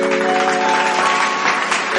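Audience applause welcoming a singer onto a stage programme, a short dense burst of clapping heard over a sustained musical tone.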